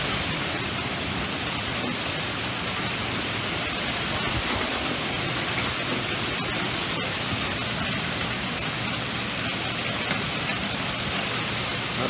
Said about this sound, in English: Hail is falling all around me up here on my front porch.